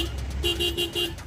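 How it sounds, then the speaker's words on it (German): A car horn honking at macaque monkeys stealing oranges from a stopped vehicle at a railway crossing, several short loud toots in quick rhythm over road noise. "Es hilft kein Hupen."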